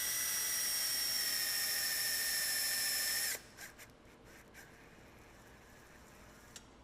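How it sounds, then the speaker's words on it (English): A power drill drives the screw mechanism of a radial arm saw table, whining steadily and loud for about three seconds before cutting off abruptly, followed by a few faint clicks and knocks. "I just put a drill on it for now"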